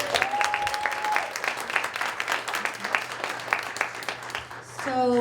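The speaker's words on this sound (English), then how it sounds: "So one more round of applause for all of our 5 winning women." An audience at a women's awards event applauds the five winners, dense continuous clapping filling the whole stretch, with a brief voice heard at the start and again at the end.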